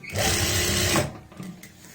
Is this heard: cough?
no